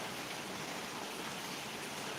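Steady summer rain falling outdoors, a soft, even hiss of drops holding without a break, fairly faint and with no voices.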